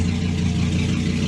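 A car with aftermarket cams idles with a lumpy, gargling note at a car meet and open house at a retrofit shop in Atlanta, giving a short, steady, close engine rumble with no talking.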